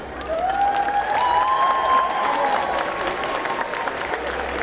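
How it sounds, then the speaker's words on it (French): Audience applause at a cosplay contest and catwalk show during a geek convention, steady broadband clapping from a crowd filling the hall, with a faint voice and light cheering over it. "on vous demande d'applaudir et de participer pendant le spectacle."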